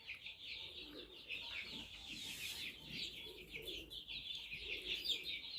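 Adler broiler chicks, 45 to 46 days old and offered for sale in Andijan, chirp and cluck continuously as a flock, a steady, fairly quiet chatter of high peeps with no pauses.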